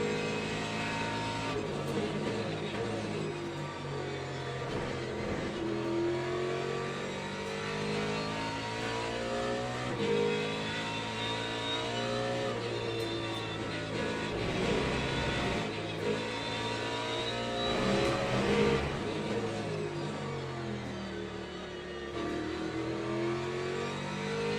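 A Porsche race car engine at speed, a loud sustained whine with rising and falling pitch as it climbs through the gears, heard steadily throughout without talk.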